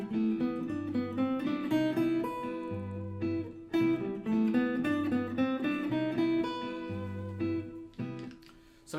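A jazz guitar plays a short bebop lick over a major 7 chord, a clean run of quick single notes that rises and falls in phrases, close and alone without talk.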